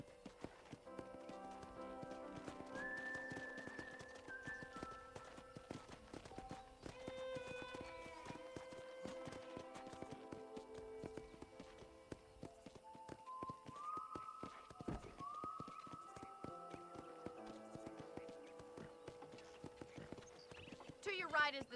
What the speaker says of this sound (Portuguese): Monte no seu novo cavalo.